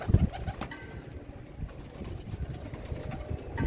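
Royal Teddy pigeon chicks coo softly and continuously, with a slightly stronger low coo at the start and a steady murmuring flock sound through the rest.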